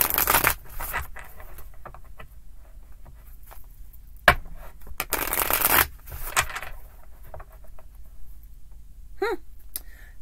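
Tarot cards shuffled on a table for a Gemini reading: close, papery riffling bursts, a long one mid-clip plus a sharp snap, with quieter handling between.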